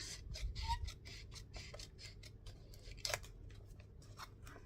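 Long scissors snipping through paper in a run of crisp, repeated cuts, close and fairly quiet, with one sharper snip near the end.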